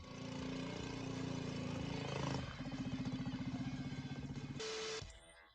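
A kid's Ford Raptor converted into a motorcycle-engined drift car, small and loud, runs with a buzzing engine whose pitch shifts, settles into a pulsing idle, then cuts off abruptly.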